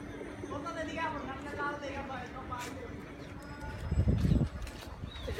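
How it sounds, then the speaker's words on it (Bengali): Pigeons coo and flutter at a loft in Bangladesh, soft cooing mixed with wingbeats and clip-clop-like shuffling, while people talk nearby over a busy outdoor background. "কবুতর গুলা"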